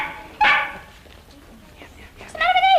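A pet dog in a workroom gives two short, loud vocal bursts, a yowling bark then a drawn-out whining 'talk' with rising and falling pitch, close by with a quiet gap between them.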